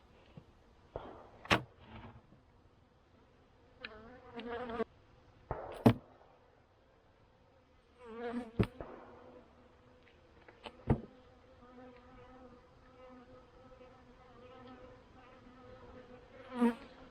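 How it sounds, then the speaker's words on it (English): Honeybees buzz around a hive at close range, the drone rising and falling as insects pass near, punctuated by a few sharp knocks and taps. "There are bees in there."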